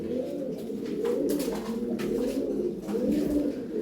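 Fancy toy-breed pigeons coo steadily in a soft, overlapping chorus, a low rolling warble that swells and dips without pause, fairly close and with no talking over it.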